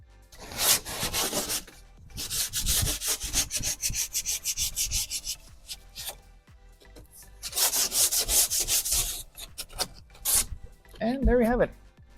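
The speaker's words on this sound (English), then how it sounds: "we're gonna sand down the edges" Hand sanding the edges of a Honda Civic trunk insert, with bursts of gritty rubbing strokes in quick back-and-forth rhythm separated by pauses, close and moderately loud, and a brief voice near the end.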